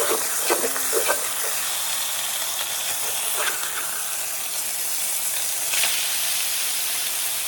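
Fish for fish tacos frying in a pan, a steady broadband sizzle and hiss running throughout with small pops and crackles, close and fairly loud, no voices.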